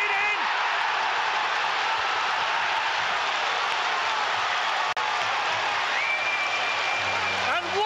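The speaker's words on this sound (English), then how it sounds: "And listen to that crowd now." At a Southampton versus Huddersfield Championship football match, a stadium crowd roars loud and unbroken after a volleyed goal, a dense wash of cheering that fills the ground throughout.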